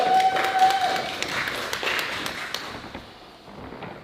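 A crowd applauds fighters before a bout, dense clapping spread across the clip and fading slightly toward the end, with a brief whistle-like tone near the start.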